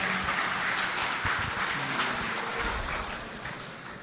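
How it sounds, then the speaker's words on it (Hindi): An audience at a mushaira poetry gathering in Jeddah applauds to welcome a young poet, a dense wash of clapping that stays fairly steady before fading slightly toward the end. "इस नौजवान शायर के ज़ोरदार तालियों में इस्तक़बाल फरमाएं"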